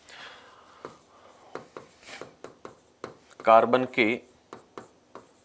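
Notes on carbon allotropes are written out during a Class 10 chemistry lesson, giving short, close scratchy strokes in an irregular rhythm under a teacher's ongoing spoken explanation.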